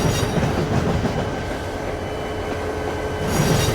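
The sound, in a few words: train arriving at station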